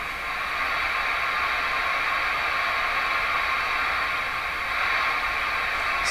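A Johnson Messenger CB radio gives off steady, loud static hiss with no signal, an even broadband rush that holds unchanged for about six seconds.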